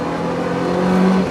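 A high-revving Mercedes 190E four-cylinder engine blips up on a downshift rev match, a brief, loud, close engine note rising steadily from inside the car.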